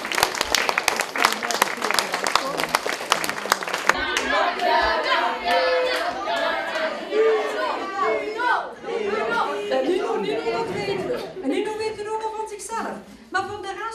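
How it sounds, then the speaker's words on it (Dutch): A studio audience at a local Stein television broadcast claps loudly and steadily for about four seconds, then the applause dissolves into lively crowd chatter with people talking over one another. "En zullen we even klappen voor ons?"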